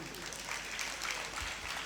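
An audience claps during a Hindi religious discourse by a Jain monk, a soft, steady patter of many hands heard from some distance, fairly faint and continuous throughout.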